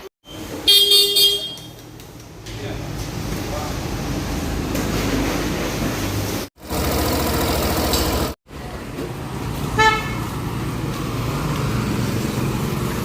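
Motor scooter engine running after a service, a steady close idle drone interrupted by a couple of short horn toots near the start and again later, with brief silent cuts between segments.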